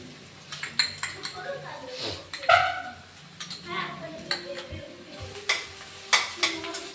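Ginger paste being stirred in a metal pan with a spoon, giving repeated scraping clinks and light sizzling, close and fairly clear, with a voice speaking briefly in between.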